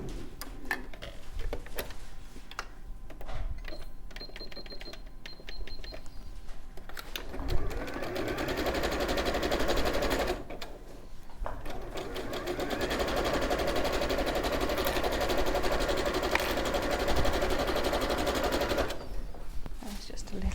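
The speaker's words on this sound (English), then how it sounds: "So we'll just zigzag stitch those into place." A domestic sewing machine runs zigzag stitches to fix pockets in place on a sewn fabric animal head, buzzing in fast rattling bursts with short pauses between runs, fairly close, with no talking.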